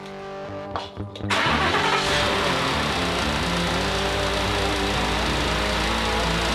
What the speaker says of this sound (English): now we got to start it up and get some of the coolant circulating